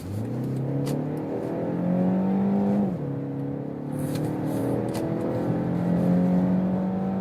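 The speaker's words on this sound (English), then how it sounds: "we start from 45 kilometers an hour and accelerate it out" A 2023 BMW X1 23i in sport mode pulls hard from 45 km/h, its engine note climbing through a gear, dipping briefly at a shift near the middle, then rising again, heard steadily from inside the car with no talking.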